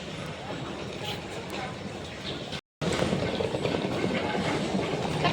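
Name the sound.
train moving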